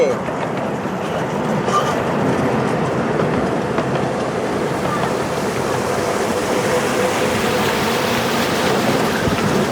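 A sightseeing train through rice fields in Pathum Thani, Thailand, rumbles steadily along the rails with continuous rolling noise and faint clatter, heard from on board, with occasional voices.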